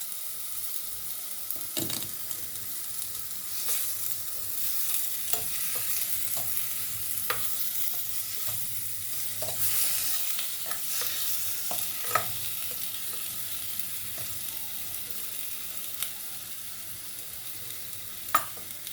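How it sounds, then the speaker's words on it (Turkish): Meat frying in a clay güveç pot, a quiet steady sizzle with occasional soft clicks and stirring knocks, close by and with no speech. "Şimdi etimi koyuyorum içine. Etimi kavuracağım."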